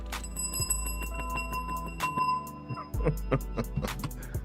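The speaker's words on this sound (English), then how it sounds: "Let me hit my bell" A bell rings with bright, sustained metallic tones that fade slowly, struck again partway through, over a low steady hum.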